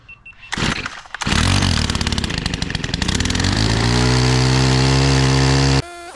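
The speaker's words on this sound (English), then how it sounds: "So starting a pole saw down in the ground, put full choke on, give it a few pumps" A cold pole saw's small two-stroke engine, on full choke, sputters, catches and revs up loudly, then settles into a steady high whine close by.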